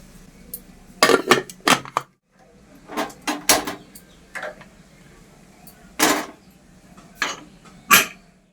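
Pots and a pressure cooker clink and clatter on a home kitchen counter as water is brought for boiling potatoes, several sharp metallic knocks in irregular bursts with quiet pauses between.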